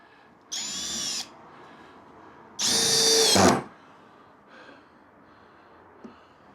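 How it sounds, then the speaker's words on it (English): A cheap brushless drill driver whirs in two separate bursts, the second longer and louder, as it drives screws, with quiet pauses in between. "so let's give it a bit of a drill"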